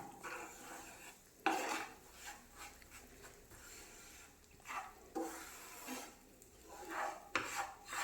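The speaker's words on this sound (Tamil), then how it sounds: "இதை இந்த நெய்யில் நல்லாவே வறுத்து எடுத்துடலாம்." A spoon scrapes and rasps repeatedly against a pan as bread, semolina and cardamom roast in ghee, with soft, irregular stirring strokes at low volume.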